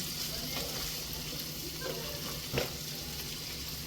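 Vegetables sauté in a pan for a creamy pasta sauce, giving a constant, fairly quiet hiss of sizzling oil with one soft stirring scrape near the end.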